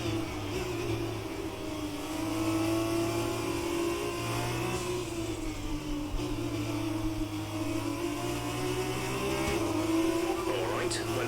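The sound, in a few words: F2 race car engine at Silverstone, from video game F1 2020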